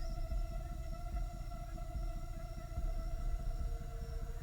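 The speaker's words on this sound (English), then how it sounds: "That thunder that you hear" Deep continuous rumble of a giant insectoid beast in a tabletop fantasy game scene, a low rolling thunder-like roar held steadily under faint droning tones, no talk.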